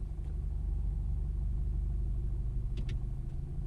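A VW Scirocco R engine idles with a low, steady rumble alongside a constant airy air conditioning fan hum; a few faint clicks sound near the end.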